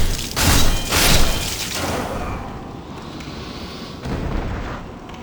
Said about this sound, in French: il y a un ennemi en haut. Qui va, voilà, nous lancer une bombe